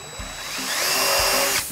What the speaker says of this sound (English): you want to make sure to pre-drill it